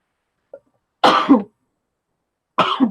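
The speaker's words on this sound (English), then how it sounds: "I feel a sneeze coming on" A quick sharp intake, then a loud explosive sneeze, followed shortly by a second forceful burst; no talking.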